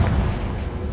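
A Confringo blasting spell explodes in a PlayStation 4 video game, a dense low booming blast that fills the whole second with a loud, rumbling roar.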